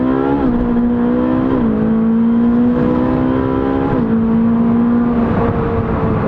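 Loud Ferrari 458 Speciale engine revving and accelerating with wheelspin up through gears, its pitch climbing and dropping at each shift, close and with no talking.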